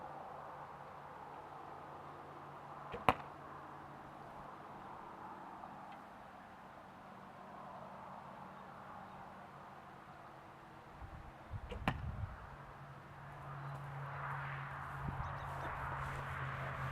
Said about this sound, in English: I just shot the 2 arrows